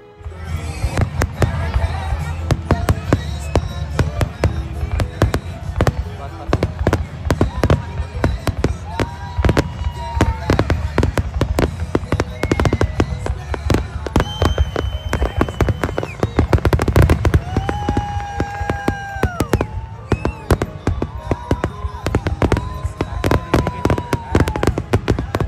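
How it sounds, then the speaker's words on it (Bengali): A crowded outdoor 4th of July fireworks display crackles and booms continuously, with dense rapid bangs, whistling rockets rising at intervals, and an audience murmuring beneath the barrage. "এই যে জাস্ট শুরু হবে এখনই ফায়ার ওয়ার্কস।"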